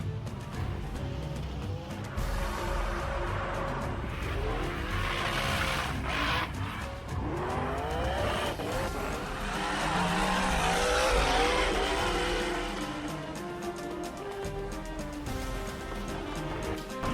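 A racing motorcycle engine roars loud and continuous, revving up and down with a rising whine near the middle, with no voices heard.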